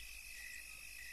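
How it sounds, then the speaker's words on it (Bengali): Crickets trill in a steady, faint, unbroken high chirr through a still night, with no frog calls standing out and no voices. "চারিদিকের এই থমথমে পরিবেশে ঝিঝি পোকার ডাক আর ব্যাঙের ডাকই আমার সঙ্গী"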